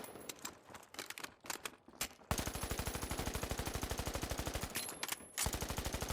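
ARN rifle firing in the video game The Finals, with scattered shots early on and then a long rapid burst of evenly spaced automatic fire, loud and close.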